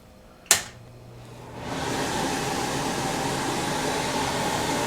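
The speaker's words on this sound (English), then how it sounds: "I'm going to have to turn on a vent so I don't set off the fire alarm" A kitchen vent fan switches on with a click, then spins up to a steady, broad whooshing hum that runs on loud and continuous. No one talks over it.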